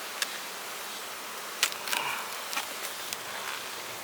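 Honeybees buzzing around a honey super in a beeyard, soft and faint with a few brief louder passes of bees flying close by.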